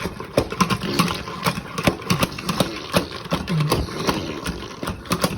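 Cut cabbage whirls inside a lidded spinner bowl, giving a continuous rhythmic whirring and rattling that holds a steady pace with no talk.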